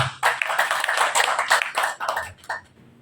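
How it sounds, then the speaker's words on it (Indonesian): A gathered audience claps hands briefly at an adat institution event, a scattered run of close claps and taps lasting a few seconds before trailing off. "Tepuk tangan dulu."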